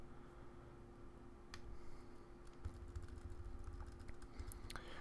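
Keystrokes tapped out on a computer keyboard while entering build commands, a quiet run of soft clicks at a steady, uneven pace over a faint electrical hum.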